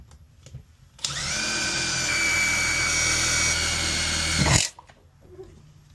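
A power drill whines loudly for about three and a half seconds as it bores out a stuck part in a KitchenAid stand mixer, with faint handling noises before and after.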